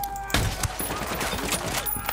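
Gunfire in Ghost Recon Wildlands, a few sharp shots cracking out amid busy background game noise, moderately loud and irregularly spaced.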